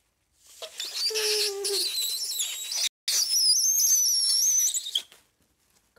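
Loud, piercing squeal made by blowing breath across a stretched plastic bag held between the thumbs, two shrill wavering bursts separated by a short gap, close and without talk.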